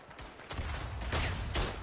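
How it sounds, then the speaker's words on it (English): Artillery fire in the WWI shooter Tannenberg on the Eastern Front: several heavy booming blasts in quick succession, loud and close, amid dense battlefield noise. "That's a lot of artillery."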